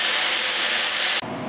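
Meat sears in a hot pan, giving a loud, steady sizzling hiss that fills the whole stretch and then drops sharply to a quieter sizzle near the end.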